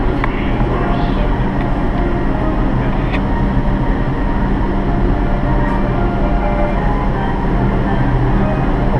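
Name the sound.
subway train in New York, number one downtown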